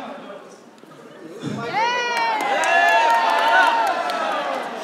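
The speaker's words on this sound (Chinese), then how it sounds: "还没说话就给掌声" Applause and cheering from the audience at an SHY48 idol fan meeting on a campus tour, swelling into a sustained, lively crowd roar with shouts and voices over it for several seconds.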